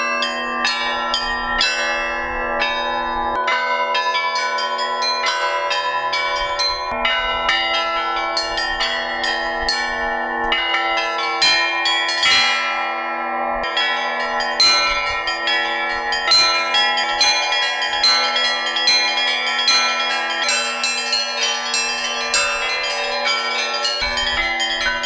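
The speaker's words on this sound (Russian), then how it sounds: "Наш большой колокол небольшой по весу, всего 134 килограмма, но его профиль издает звук колокола 400 килограмм весом." Church bells of the Assumption church ring continuously, including a deep bass bell weighing 134 kilograms that sounds like a far heavier bell, with higher bells struck in a dense, loud overlapping peal.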